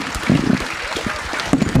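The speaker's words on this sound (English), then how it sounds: "let's give our panelists a big round of applause" An audience applauds panelists at the grand finale of a sustainability startup competition at Mount Carmel College, with a dense, fairly soft wash of clapping and a few voices mixed in.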